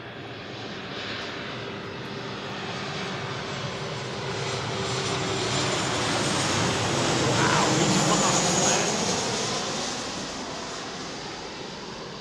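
A Boeing 737 jet airliner roars overhead at Manchester Airport, a broad rushing engine noise that swells toward the middle and slowly fades, with no other sounds.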